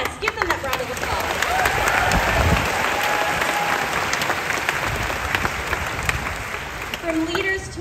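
Audience applause for cast members at a Disney's Hollywood Studios 35th anniversary celebration: a large crowd claps and cheers steadily throughout, dense and sustained, with faint voices mixed into the noise.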